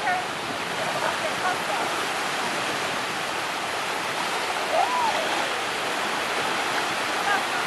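Gentle waves lap in very shallow, clear water off a soft white-sand beach at Lido Key, a steady hushing wash throughout with faint voices in the distance.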